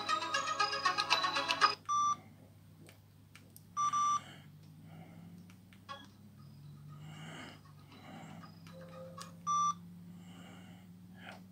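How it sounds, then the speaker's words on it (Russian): Short electronic beeping tones from a retro Nokia-era mobile phone while browsing its ringtone settings, several separate bursts of bleeps at a quiet level over a steady low hum, with soft handling noise between them. "Время, дата, телефон, дисплей, звук. Звук звонка."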